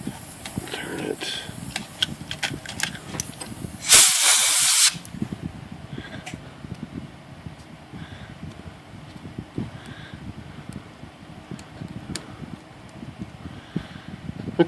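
Compressed air blown through an IBM Selectric II typewriter mechanism during a return clutch repair, a single loud hissing blast of under a second, set against steady mechanical clatter and background noise.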